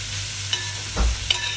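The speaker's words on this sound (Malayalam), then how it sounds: "വെളുത്തുള്ളി ഇഞ്ചി കൊഞ്ഞുള്ളി ഒരു ടേബിൾ സ്പൂൺ കോക്കനട്ട് ഓയിൽ ഇട്ടിട്ടുണ്ട്" Garlic, ginger and shallots frying in a tablespoon of coconut oil give a steady, close sizzle, broken by a few short spoon scrapes and one louder stirring burst midway. No one speaks.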